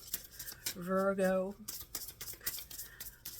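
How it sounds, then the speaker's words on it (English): Tarot cards being shuffled by hand, giving repeated close crisp riffles and scratchy flicks while someone speaks over them. "I'm shuffling for Virgo."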